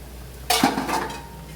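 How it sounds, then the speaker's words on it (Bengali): A lid comes off a cooking pot of simmering vegetables meant for a light bata fish curry with ridge gourd and pumpkin. One close metallic clatter is followed by a brief ringing scrape that fades out. "কিছুক্ষণ পর আমি ঢাকনাটা খুলছি।"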